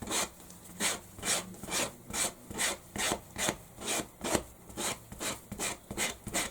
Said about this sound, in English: So all I'm going to do now is just sand this down.